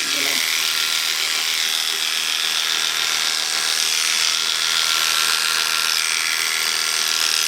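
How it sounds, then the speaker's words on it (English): Electric clippers buzz in a steady, close, high-pitched drone while trimming an Old English Sheepdog's fur, running continuously without pause. "when I'm clipping, you don't want to rock the clippers back like this"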